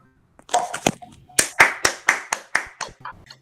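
Audience members at a school-culture workshop clap their hands, about a dozen sharp separate claps in a loose, uneven rhythm, close and fairly loud with brief gaps between them.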